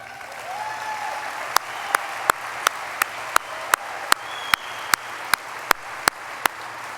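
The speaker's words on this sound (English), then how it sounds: "so please give yourselves a round of applause." A board president's farewell audience gives a round of applause, a soft continuous wash of clapping heard from a distance under a room hum, punctuated by a regular series of sharp clicks.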